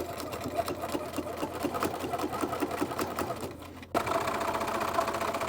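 Sewing machine stitching a curved seam on a fantasy tabard costume, a steady fast mechanical whir running throughout, briefly dipping and then resuming slightly louder near the end.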